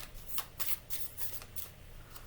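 Tarot cards being shuffled by hand, a quick series of crisp riffling bursts repeating in an uneven rhythm, close and alone.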